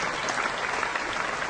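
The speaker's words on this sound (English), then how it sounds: "A huge round of applause for them." Studio audience on a TV dance show claps in a dense, steady burst of applause for the full short stretch, loud and close with no talk over it.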